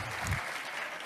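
Audience applause at a public hearing of the Brasília legislative chamber, a brief steady burst of clapping from a crowd.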